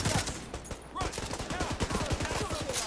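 Rapid pistol fire rattles in dense overlapping bursts during a firefight in the video game The Division 2, loud and continuous for the whole stretch with no speech.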